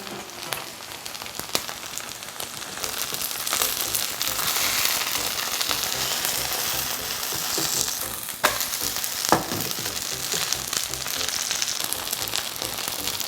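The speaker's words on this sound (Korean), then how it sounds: "천천히 중불에 이렇게 구워주세요" Korean chive pancake (buchujeon) packed with shrimp and seafood frying slowly in a pan over medium heat, a dense continuous sizzle and crackle with a few sharper pops, no one talking.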